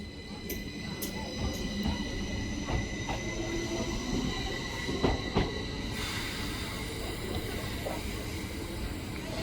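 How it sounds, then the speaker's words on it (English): A Class 333 Northern electric train pulling out of Shipley station on the Bradford Foster Square to Ilkley service, a close, steady rolling rumble with wheel squeal and clicks of wheels over rail joints. "now departing is 333 with the 1728 Northern service to Ilkley from Bradford Foster Square"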